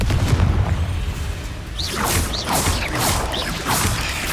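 Confringo fire spell cast in the Hogwarts Legacy video game, heard as a run of sharp whooshing bursts and booms repeating about every half second over a low rumbling background, fairly loud with no talking.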